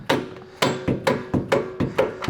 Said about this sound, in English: So go ahead and probably have to take a hammer.